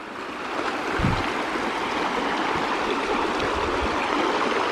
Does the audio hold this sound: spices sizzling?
no